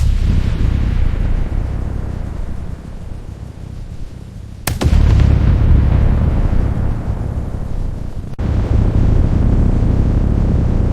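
A missile launch effect roars as a heavy, sustained rumbling blast, with a sharp crack midway that sets off a louder surge of roar and a second abrupt cut near the end, loud and close with no voices.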